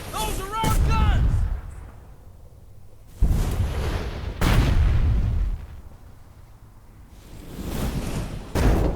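Artillery guns firing in the Burden of Command wargame set at Casablanca: four heavy booms spaced seconds apart, each trailing off into a long rolling rumble, with a voice briefly heard at the start.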